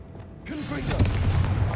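A Confringo blasting spell explodes in Hogwarts Legacy, a sudden booming burst that swells and rumbles on for over a second under a low, continuous roar, with a voice briefly audible just before.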